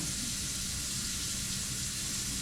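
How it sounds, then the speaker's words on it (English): Water wrung from wet pads of a VEVOR cordless electric spin mop, a steady broadband hiss and trickle running throughout, close and continuous with no pauses. "Wet these, and then squeeze out as much water as I possibly can."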